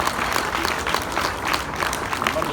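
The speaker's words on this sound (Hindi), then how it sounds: "इनके लिए भी एक और मर्तबा ज़ोरदार तालियां हो जाएं।" Applause in a classroom for students at the last session of a Next.js course, a steady wash of clapping with crowd noise and some talk mixed in, fairly loud throughout.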